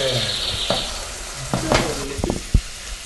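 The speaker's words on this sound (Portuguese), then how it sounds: "olha lá, começou a ferver, já tá. Soltou as bolinhas." Milk and cream mixture coming to a boil in a pan, bubbles popping and sizzling with a few sharp clicks and a louder pop near the end, close up with no talking.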